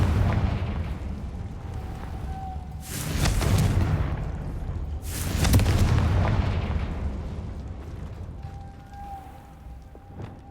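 Confringo blasting spell in Hogwarts Legacy: two heavy booming explosions a couple of seconds apart, each with a long rumbling tail, over steady game ambience.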